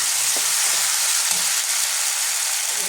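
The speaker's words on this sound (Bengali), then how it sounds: "এবার আমি এই বাটা মশলাটা দিয়ে দেবো, আদা, রসুন, টমেটো আর কাজু।" A ground spice paste of ginger, garlic, tomato and cashew fries in hot oil with fried onions, giving a steady, close sizzle with faint stirring scrapes.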